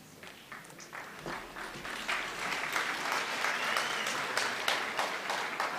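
Applause at a university graduation ceremony in Windhoek: scattered claps at first swell into dense, thunderous clapping from a large audience, growing louder and holding steady.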